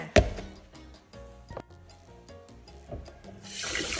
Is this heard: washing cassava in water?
yes